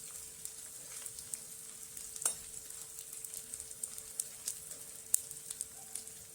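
Edible gum (dink) frying in ghee over a very low flame for methi ladoo, a faint steady sizzle with occasional small pops and crackles, quiet and continuous with no voices.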